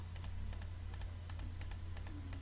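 Keyboard keys and mouse buttons click in quick, irregular bursts during Photoshop editing, with the Shift key held while clicking, faint and close over a steady low hum, with no talking.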